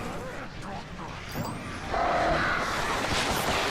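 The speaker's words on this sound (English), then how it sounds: "Go away, birds." Hostile birds swoop and caw in the Alan Wake video game, with harsh, noisy flapping and screeching that grows louder midway, under a voice.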